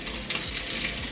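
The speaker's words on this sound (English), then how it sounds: "Okay, so we have a nice sizzle going on." Cumin seeds sizzle steadily in a hot cooking pot, a continuous close frying crackle with a brief louder burst near the start, and no voices.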